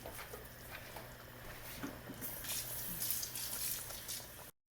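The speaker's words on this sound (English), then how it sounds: "Don't forget to put a little cold water in your can, swish it, and put it in your sauce." Cold water swished around an emptied sauce can and poured into a pot of Sunday sauce, a soft watery splashing and trickling that grows fuller and brighter toward the end, heard close with no talking.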